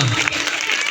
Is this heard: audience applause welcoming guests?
yes